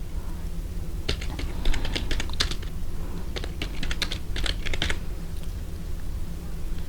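Bursts of rapid key clicks from typing first, middle and last names into Excel cells on a computer keyboard, uneven clusters with brief pauses between, close and steady over a low background hum.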